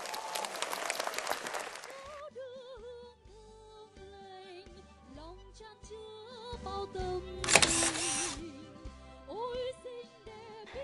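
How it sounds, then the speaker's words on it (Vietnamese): Studio audience applause on a televised singing competition final welcomes a contestant: a dense burst of clapping at the start gives way to music, with a short sharp swell of claps partway through. "Một tràng pháo tay thật lớn để cùng chào đón thí sinh Lê Thị Dung."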